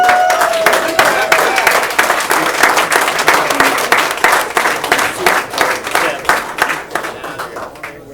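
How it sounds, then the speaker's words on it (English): A room of people at a village board meeting clap for themselves, dense sustained applause close by for several seconds, with brief voices mixed in. "You guys clap it up for yourselves."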